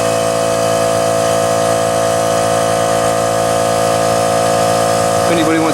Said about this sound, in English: I need a bigger compressor.